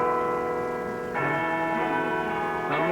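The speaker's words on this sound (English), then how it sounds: "You hear the chimes. It's chiming 11 o'clock." Cathedral bells chime eleven o'clock, ringing out in rich sustained tones with a fresh strike about every second and a half, each note hanging and overlapping the last, heard alone without talk.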